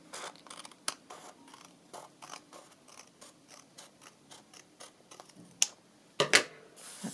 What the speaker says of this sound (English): try and trim it with my scissors